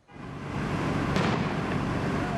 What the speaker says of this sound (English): police were able to use what they call a disruptor to disarm a larger explosive device